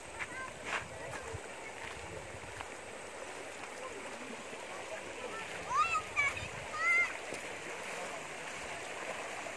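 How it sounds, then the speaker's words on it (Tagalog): A swollen river rushes past rice fields on a mountain hike, a steady broadband roar of flowing water with occasional splashes, while voices talk intermittently over it. "Lumaki yung ilog."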